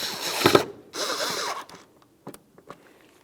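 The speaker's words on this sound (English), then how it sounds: "Lock it down with your 2 Phillips head screws." Phillips head screws are driven in by hand to fasten a tail light on a 2002-2005 Ford Explorer. Two short ratcheting, grinding bursts are heard close up, followed by faint clicks and handling noises.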